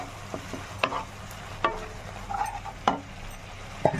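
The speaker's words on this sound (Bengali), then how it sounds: "এই মশলাটাকে একটু কষিয়ে নিতে হবে।" Ground cumin, coriander and chilli masala with a splash of water being sautéed in a pan: a low background sizzle broken by several sharp spatula scrapes and clinks at irregular intervals, close up.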